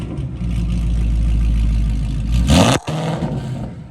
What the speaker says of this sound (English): Should we do a remote rev?